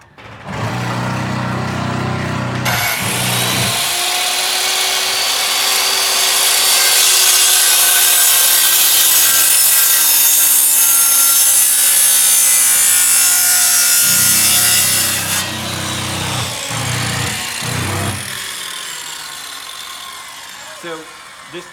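A tenon is sawn into a wooden beam, a long, loud, steady cutting drone of about thirteen seconds, with shorter bursts of workshop handling noise just before and after.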